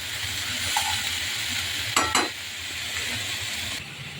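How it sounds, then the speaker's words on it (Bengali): Noodles with salt stirred in a hot pan, a soft steady sizzle with a few scraping clinks of the utensil against the pan. "লবণ দিয়ে আর একটু নেড়ে চেড়ে দিচ্ছি।"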